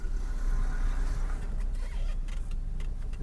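Vehicles idle and move along the Mumbai-Goa NH66 highway near Hatkhamba, Ratnagiri, a steady low engine rumble close by with passing traffic noise and a few brief clicks and knocks.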